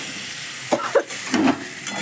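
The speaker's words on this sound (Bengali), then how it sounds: "নুন হলুদ দিয়ে একটু ভেজে নিচ্ছি।" Food fries in a pan with salt and turmeric, a soft steady sizzle and hiss with a few louder crackling bursts and stirring scrapes, close by.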